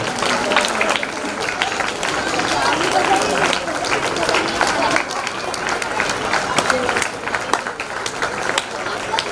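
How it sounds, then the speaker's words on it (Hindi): An audience at a Janmashtami cultural performance in Pune claps steadily in a dense, sustained patter of applause, with voices and chatter mixed in throughout. "आप तालियां भरपूर बजाते रहिए"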